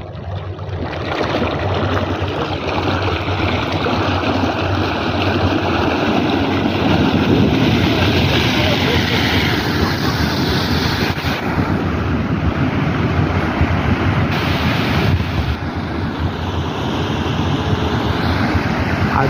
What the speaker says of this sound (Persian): حداقل 10 متر آب پرتاب بشه.